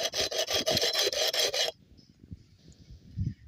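A cut square glass bottle edge is rubbed against an abrasive on a wooden base in fast rhythmic back-and-forth rasping strokes, close and loud, then stopping abruptly into quiet handling noise.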